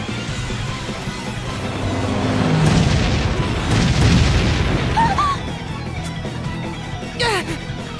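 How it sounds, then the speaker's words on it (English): Cannon fire in the video game Bravely Default: a series of deep, rumbling booms and bursts rolls on for several seconds, loud and close, then fades as lighter sounds come in. "Cannon fire?"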